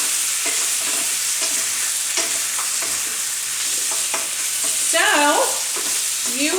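Potatoes and onions sautéing in a pan, a steady close sizzle with scraping and stirring clatter from a utensil, and a brief squeaky scrape near the end; no talking.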